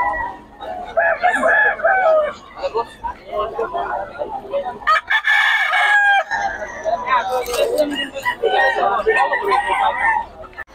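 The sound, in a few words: gamefowl rooster crowing and clucking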